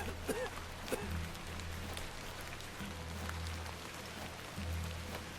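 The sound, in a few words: rain in the video game The Excavation of Hob's Barrow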